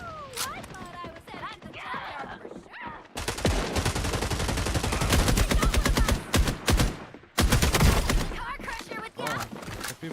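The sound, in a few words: automatic gunfire in a video game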